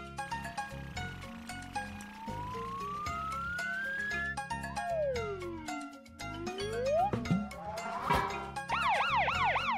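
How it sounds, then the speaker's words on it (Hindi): A cartoonish siren wails with rising and falling sweeps, mixed with jingling and clanking toy sounds, ending in rapid warbling tones. "एक लाउड और क्लियर सायरन की"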